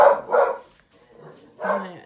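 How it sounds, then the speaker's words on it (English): Dogs bark in a quick burst, two sharp barks close together, a pause, then one more bark nearby. "They're barking."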